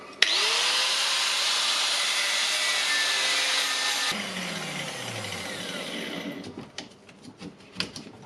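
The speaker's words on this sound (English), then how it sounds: "let's try to fight with this bad boy with a grinder" Angle grinder cutting into a stuck chuck on a cordless drill, a loud continuous high whine for about four seconds, then the disc spins down with scattered clicks and rattles as the cut stops.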